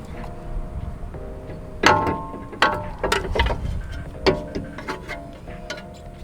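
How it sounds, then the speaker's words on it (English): A 21mm socket on a ratchet works loose the brake caliper bracket on a VW GTI, with a few sharp metallic clicks and clanks at uneven intervals over a low workshop hum, close by. "To remove this caliper bracket, we have a 21mm socket."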